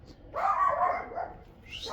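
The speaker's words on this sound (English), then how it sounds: "Hey, puppies, calm down." Puppies bark and yip at close range, a sustained burst of excited, high-pitched barking that fades briefly before another yelp.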